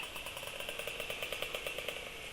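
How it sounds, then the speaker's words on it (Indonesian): A small motorcycle engine idles steadily nearby on a hot day after rain, its even, rapid chugging pulse smooth and continuous with no voices. "suara mesin masih halus ya"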